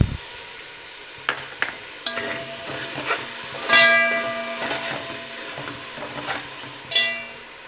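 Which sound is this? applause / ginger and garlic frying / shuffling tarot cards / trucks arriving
ginger and garlic frying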